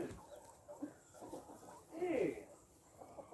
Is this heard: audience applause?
no